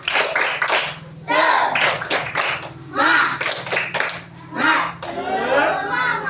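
Schoolchildren in a classroom clap out a rhythmic group cheer, sharp bursts of hands in a patterned beat alternating with chanted voices, close and lively.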